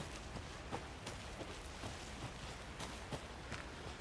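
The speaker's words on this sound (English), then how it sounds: "Should have brought an umbrella. I like the rain." Steady rain falls outdoors in the survival horror game Alan Wake 2, a soft, even patter with scattered louder drops and faint step-like taps, fairly quiet throughout.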